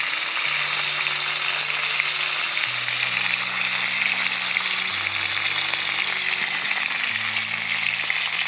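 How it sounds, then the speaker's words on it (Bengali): Fish coated in salt and turmeric fries in mustard oil in a wok, a steady bright sizzle that holds close and even throughout with no speech. "এবার মাছগুলো ভেজে নেব"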